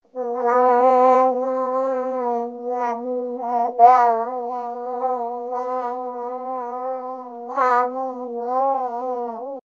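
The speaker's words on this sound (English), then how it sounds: "Babbling." Machine-generated infant babbling: a continuous, wavering high-pitched vocal line with strong harmonics, gliding and warbling almost like a cat's meow, with a few sharper breathy bursts, sustained throughout and eerie rather than natural.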